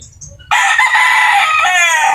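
A crossbred rooster, Black Melsen crossed with Golden Boy and Sweater lines, bursts into a loud, close crow that holds strong for nearly two seconds after a brief quiet start.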